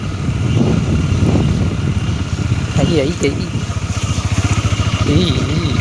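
A motorcycle rides over a rough rural road, its engine thrumming in a steady pulsing rhythm close by, with someone talking over the noise throughout.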